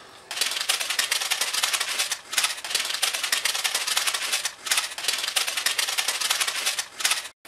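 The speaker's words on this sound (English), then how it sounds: "and tape around the seams." Tape is pulled and wrapped around the seams of a paper cube for a homemade maraca, making a dense crackling rasp that runs in long bursts with brief pauses, close up and without talk.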